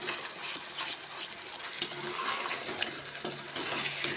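Spice paste sautéed in a pan for a Bengali curry: a steady soft sizzle with intermittent scraping strokes and a few sharp metallic clinks of the spoon against the pan, close by with no voices.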